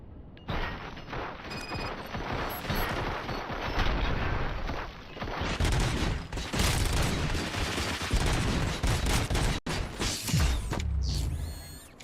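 Sustained volleys of gunfire mixed with clanking, ratcheting mechanical noise echo through a station interior, running dense and loud for several seconds before breaking off abruptly near the end.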